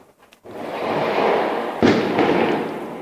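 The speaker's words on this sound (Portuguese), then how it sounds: "Hoje os foguetórios estão acompanhando meu áudio." Fireworks explode outside, a loud rumbling crackle that swells after a quiet start, with a sharper burst near the middle and a sustained roar after it.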